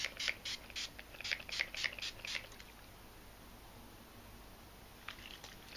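Avon Natural Pretty Passion Fruit and Peony scented face spritz sprayed from a pump bottle in a rapid run of short hissing bursts, a single later spray following after a pause.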